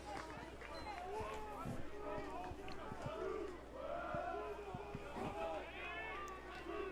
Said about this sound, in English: can hear the Otters dugout trying to cheer on Shepard.